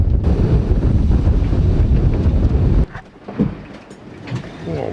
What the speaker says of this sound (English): Just got hit by something then. Yes, regular waves